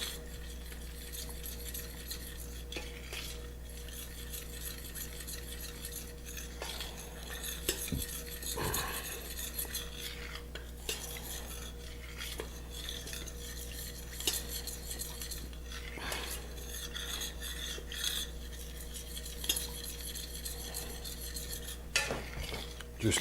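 A spoon stirs melting chocolate into boiled cream in a pan on the heat, giving a steady, quiet scraping with faint metallic clinks against the pan. No one speaks.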